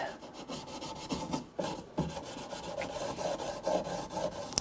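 Gunk is rubbed off wooden furniture during cleaning, with quiet rasping, scrubbing strokes in an irregular rhythm, close and fairly soft, with no talking.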